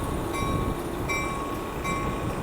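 Amtrak San Joaquin train 712, bound for Bakersfield with cab car 6961 leading, departing Richmond station, California, as a steady rumble of rolling cars with faint rhythmic wheel clicks and a tonal hum.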